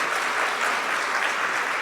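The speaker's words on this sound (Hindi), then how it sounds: "आपको जोरदार तालियां बजानी होंगी। Can we do that? Louder!" An audience at the NDTV Yuva 2025 event claps loudly and continuously, a dense, even wash of applause filling the hall with no break.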